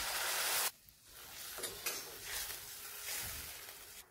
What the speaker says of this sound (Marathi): यामध्ये पाणी टाकायचं.